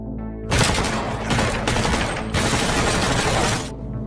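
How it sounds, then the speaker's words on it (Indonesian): Gunfire in an action film scene where a man is shot in the leg: loud, dense bursts of shots and blasts fill nearly four seconds, with brief lulls between volleys before cutting off. "Mudir muncul dan menembak kaki Zaid, hingga membuat posisinya terpojok"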